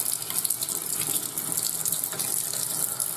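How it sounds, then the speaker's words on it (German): Eyeglasses rinsed clean of dish soap under a running tap, a steady close splashing rush of water into a sink that carries on without a break. "am Ende wieder abspülen"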